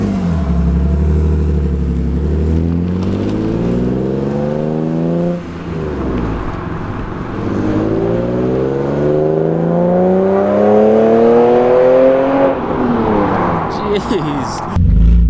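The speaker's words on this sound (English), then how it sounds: "Intake noise isn't too bad either" A BMW E36 M3 fitted with Raceland headers and a new exhaust revs repeatedly, loud and close, its engine note sweeping up and down in several long pulls with voices talking over it.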